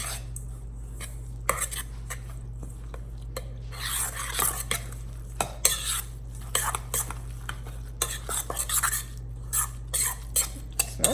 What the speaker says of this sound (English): let's mix this together and then I'll put the chia seed egg in and mix it in